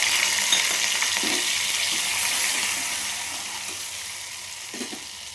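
Vegetables fry in hot oil with panch phoron, green chilli and crushed ginger and garlic, for a vegetable dish cooked with kolkhar alkali, giving a steady close hiss and sizzle with occasional stirring clinks.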